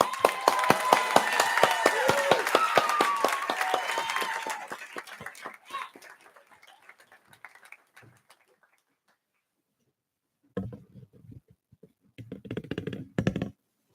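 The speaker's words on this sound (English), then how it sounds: "Please give a warm welcome and a round of applause to our newest Becca faculty member, Professor Shabnam Piriai." Audience at a university festival event clapping for a new faculty member, a dense burst of applause for about four seconds that fades out, followed by scattered soft clicks and short bursts of sound near the end.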